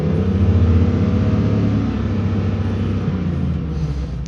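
A 2002 Chevy light truck with an LM7 V8 held at about 4,000 RPM during a crankshaft position variation relearn, a loud, steady engine roar close by with a slight easing toward the end and no talking.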